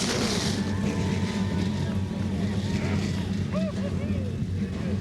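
Race car engines at an ASA Racing Series short-track event at Concord Motorsport Park roar as a group, a loud, continuous low rumble with wind buffeting the microphone and a voice talking over it.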